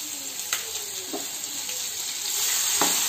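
Garlic, cumin and curry leaves sizzle in hot oil for Vidarbha-style mutthi, making a steady, close frying hiss with a few light stirring clinks.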